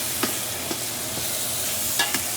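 Beef stew meat browning in a hot pan with a steady soft sizzle, broken by a few light scrapes and clicks as the pieces are stirred and flipped.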